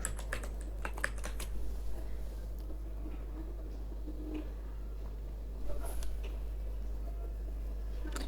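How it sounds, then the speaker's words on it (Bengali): Someone types a command into a command prompt on a computer keyboard while setting up Android Studio, with quick bursts of close, crisp key taps separated by short pauses over a low steady hum. "এখানে আমরা লিখব হচ্ছে ফ্ল্যাটার ডক্টর"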